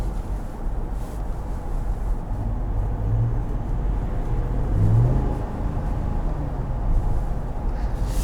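A 2021 Ram 1500 eTorque Limited Night Edition pickup truck drives along, with a steady low engine and road rumble heard from inside the cab and a mild swell partway through.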